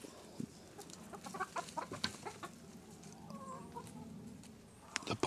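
Backyard chickens cluck and squawk nearby in a series of uneven bursts, with scattered rustling and farmyard background noise and no talking.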